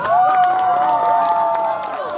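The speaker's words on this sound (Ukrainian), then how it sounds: "оплески" Children's camp crowd cheering and clapping, a loud sustained wash of shouting voices with whoops and applause running the whole time.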